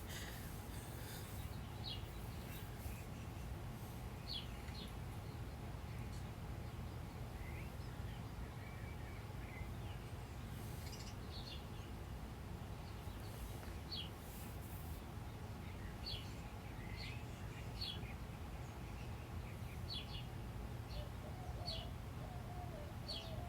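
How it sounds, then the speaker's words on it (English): Little birds chirp outdoors, faint scattered high tweets and calls repeating across a steady low background hum, distant and soft throughout. "So, do you hear the little birds?"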